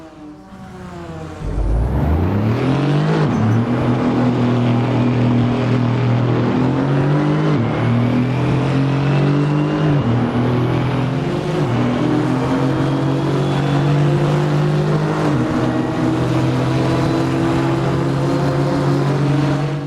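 Loud, close race car engine in a multiclass sim race on the Nürburgring Nordschleife, overtaking a BMW M2 Cup car; it bursts in after a short quiet start, then drones steadily at high revs with repeated rising pitch sweeps between gear shifts.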